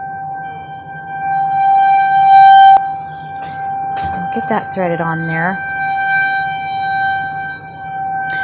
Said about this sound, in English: We live right by the tornado siren, so it gets really loud, and they test it every Thursday.